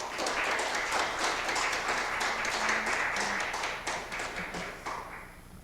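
An audience claps in steady applause to welcome a speaker at a Korean disaster resilience seminar, a dense, sustained wash of hands that thins out near the end.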